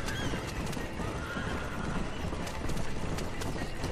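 Horses galloping with steady clip-clop hoofbeats and loud neighing in the Western video game Red Dead Redemption, continuous and close with no talk.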